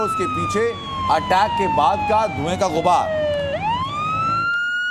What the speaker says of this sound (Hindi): पीछे से सायरन की आवाज आपको आ रही है